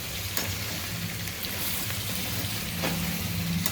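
Sea crab fry with a little coriander sizzling in a pan as it is stirred, a steady close frying crackle with faint scraping throughout, no voices.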